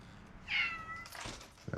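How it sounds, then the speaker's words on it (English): A cat gives one short, clear meow at close range in a quiet room, followed by faint rustling. "Meow, meow, kitty."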